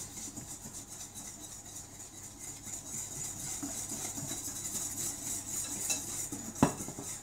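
A whisk or spoon clinks and scrapes steadily in a bowl as hot milk is worked into egg yolks for a strawberry tart's custard, a quiet continuous rhythmic stirring with one louder knock near the end.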